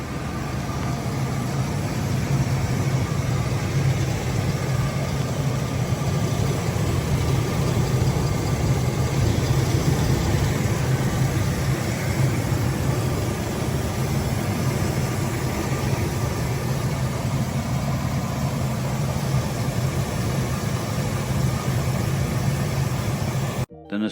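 A 2001 GMC Safari's 4.3-liter V6 Vortec engine idles steadily with a low, even rumble, running continuously at a constant level with no talking over it.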